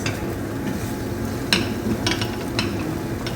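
Chicken tikka biryani being stirred in a hot pan, a steady sizzle broken by a few sharp scraping clatters of the utensil, close and fairly loud.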